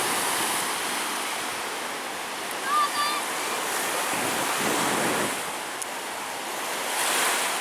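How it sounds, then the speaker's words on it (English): Ocean waves roll onto a beach with factory smokestacks in the distance, giving a steady hissing surf wash that swells and eases gently, with wind buffeting the microphone and a faint bird call briefly heard. "There are nice waves rolling in."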